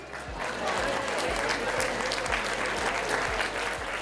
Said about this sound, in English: a big round of applause and thank you to everybody at the Clarion Hotel for all the wonderful food